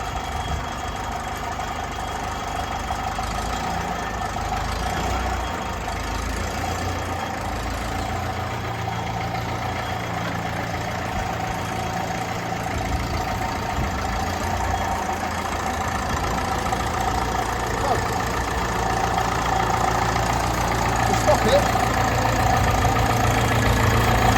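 A 1956 Ferguson TEF20 tractor engine idles steadily nearby, a continuous low rumbling chug with a slight knock, holding a constant level throughout with no speech.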